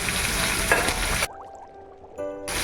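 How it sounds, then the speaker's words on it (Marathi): Cashews, almonds and long-sliced onion fry in hot oil with a dense, steady sizzle that cuts off abruptly, leaving a quieter pause with faint clinks before the hiss briefly returns at the end. "आता हे आपण त्याच्यामध्ये टाकून घेऊया तेलामध्ये टाकून घेऊया"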